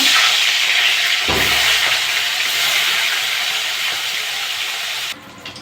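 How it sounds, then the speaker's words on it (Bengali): Tilapia fish frying in oil produce a loud, continuous hissing sizzle close by, steady for about five seconds before it drops suddenly to a much quieter hiss. "বাকি মাছগুলো আমি একইভাবে ভেজে নেব।"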